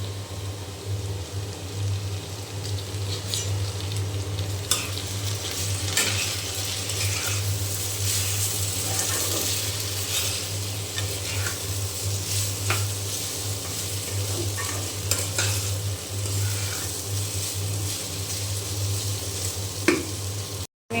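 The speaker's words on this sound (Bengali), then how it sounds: "এখন আমি এই যে কাঁচামরিচ আর পেঁয়াজ কুচি দিয়ে দিলাম।" Potatoes fry in a pan with green chilli and chopped onion, giving a steady close sizzle with occasional scraping and clinking of a spatula over a constant low hum.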